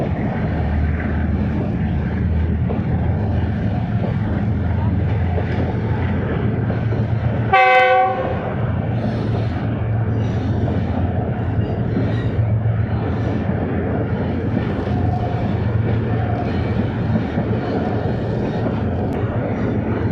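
A passenger train, the Khushhal Khan Khattak Express on the ML2 route along a sandy riverbank, rumbles steadily along the track, and its horn sounds one short, loud blast midway through the continuous roar.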